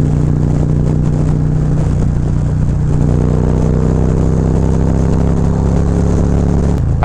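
A Harley Road Glide motorcycle fitted with a Feuling 465 cam pulls hard under acceleration, its loud, steady engine roar close and continuous, with shifting exhaust tones and no voices.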